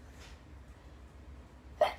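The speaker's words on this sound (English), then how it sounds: "I'm gonna sneeze again." A man sneezes near the end, a short intake followed by a sharp, loud burst, after a couple of seconds of near silence with a faint breathy sound early on.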